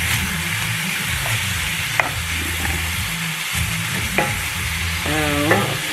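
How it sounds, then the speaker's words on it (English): Seasoned carne picada sizzles steadily in a pan while being stirred, a constant frying hiss with occasional scraping clicks of the utensil close by. "You just get all your seasonings stirred in here"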